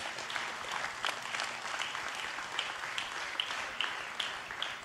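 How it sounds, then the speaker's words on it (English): A church congregation applauds steadily, a dense wash of clapping that holds at an even level for about five seconds with no voices above it. "Give Jesus a round of applause."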